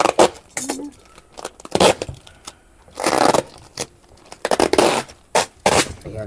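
Scissors snip and scrape through the paper wrapping of a parcel sent from Japan, in repeated close, loud bursts separated by short pauses.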